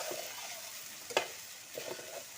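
Turmeric and garam masala are sautéed in a pan over a wood-fired chulha stove, a soft, low sizzle with one sharp scrape of the spoon in the middle and lighter stirring after.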